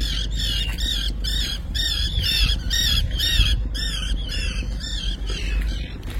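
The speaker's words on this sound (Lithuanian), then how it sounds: "Pypauja žuvėdros." Gulls by the Kauno marios reservoir in Lithuania squawk in a loud, rapid series of repeated calls over a low background rumble.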